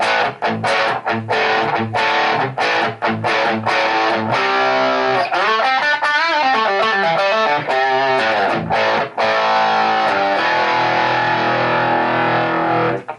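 An electric guitar played through a Barber LTD boost pedal into an Egnater Tweaker amp and Mesa cab clone, loud and driven, with strummed chords, picked runs and sustained ringing notes.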